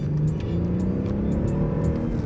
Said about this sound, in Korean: 여기서 가속 느낌이 어떤지 한번 이렇게 쑥 살살